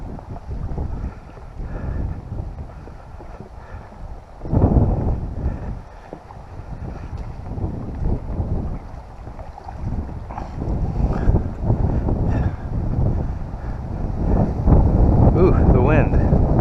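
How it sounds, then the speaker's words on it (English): Wind gusts over the microphone on the Jordan Pond trail, a rough low rumble that swells and fades, rising stronger toward the end, with people talking faintly beneath it. "Glad the wind found us."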